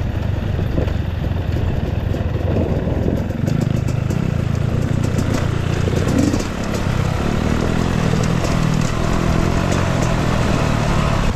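Motorcycle engine on a mountain trail ride in Tacadang, running steadily and loudly close by for the whole stretch with a rough, clattering drone, a slight dip midway and no talk over it.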